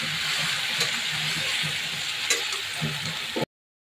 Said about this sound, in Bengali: এটাকে ভালো করে আমরা নেড়ে নেবো।